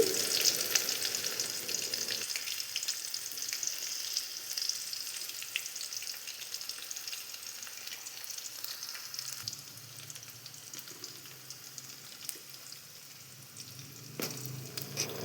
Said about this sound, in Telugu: ఇందులోని ఒక మీడియం సైజ్ ఆనియన్ని కట్ చేసి ఆయిల్లో వేయండి